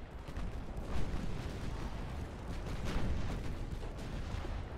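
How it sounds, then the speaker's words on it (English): Light cruiser guns firing in Ultimate Admiral Dreadnoughts, a dense rumbling barrage of overlapping booms rolling on steadily for several seconds with no talk. "let's try to get the light cruiser to launch its guns for good measure"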